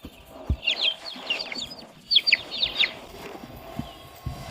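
A hen on an off-grid forest farm clucks in short bursts of sharp, nearby notes, with scattered soft knocks and rustling in between.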